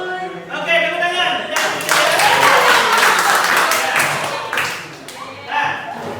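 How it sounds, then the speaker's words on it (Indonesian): Classroom participants break into applause, a dense burst of hand clapping that swells from about the second mark and fades in uneven waves, fairly close and loud, with scattered voices over it. "Oke, tepuk tangan."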